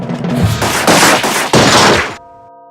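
Prop guns firing in a Western-style quick-draw standoff, a loud burst of rapid overlapping bangs in close succession lasting about two seconds, then cutting off to a low hum.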